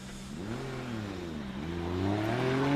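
Drift car engine at a British Drift Championships qualifying run at Teesside, revving and rising in pitch as it leaves the line, a loud, close, climbing tone with no voices.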